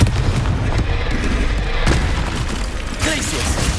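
Confringo blasting curse explosions in Hogwarts Legacy on PS5, dense booming blasts layered over a continuous loud rumble, with a voice shouting a spell at the same time.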